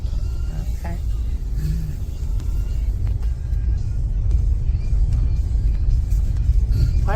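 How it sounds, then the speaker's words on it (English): Car driving along a really bumpy dirt road near Felicity, California, heard from the front seat as a loud steady low rumble with rattles and knocks from bumps; a person talks briefly. "Why is it I'm always videotaping from the front seat of your car on really bumpy roads?"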